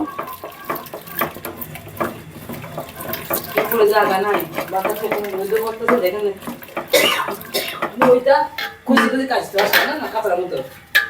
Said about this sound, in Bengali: এই যে ডাল সিদ্ধ করে রাখছিলাম এখন একটু ঘেঁটে নিচ্ছি